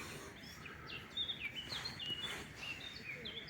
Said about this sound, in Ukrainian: в лісочку в цьому пташки співають